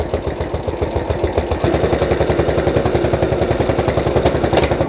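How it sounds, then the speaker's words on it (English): A sewing machine stitches through a stack of papers in a fast, even mechanical chatter that quickens slightly midway and stays close and loud throughout. "Sewing the papers."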